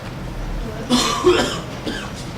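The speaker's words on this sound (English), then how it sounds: "I've been coughing for 2 days straight" A short burst of coughing, two or three rough coughs close by, over a faint steady background.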